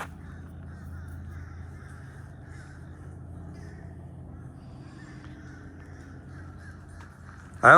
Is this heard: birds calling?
yes